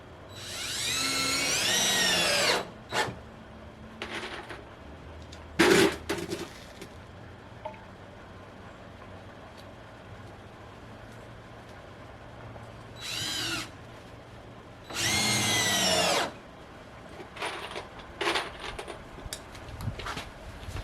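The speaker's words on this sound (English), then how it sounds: "and I'll put some screws in there. These are just regular deck screws." A power drill drives regular deck screws in several bursts, a high whine ramping up for a few seconds each time, with short clicks and quiet pauses between runs during a shed build.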